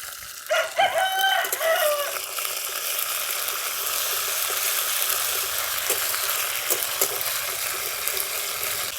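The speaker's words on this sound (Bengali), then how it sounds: "এই আদা কাঁচা লঙ্কা বাটাটা ভালো করে ভাজা ভাজা করে নিয়েছি।" Ginger and green chili paste fries in a pan for a vegetarian chole bhature dish, giving a steady close sizzle. A rooster crows loudly in the first couple of seconds before the frying continues alone.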